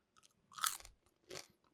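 A crunchy snack is bitten and chewed close to the mic, giving two loud, brittle crunching bursts separated by a short pause, with no talking.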